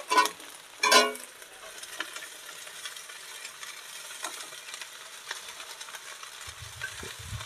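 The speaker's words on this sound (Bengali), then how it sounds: "আমি নাড়াচাড়া করব, ভাজা ভাজা করব" Day-old leftover rice is tossed and fried in a pan in a village kitchen: two loud scraping strokes open, then a low, continuous sizzle with light stirring scrapes and no voices.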